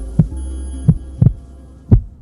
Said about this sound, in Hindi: दिल अचानक जोर से धड़कने लगा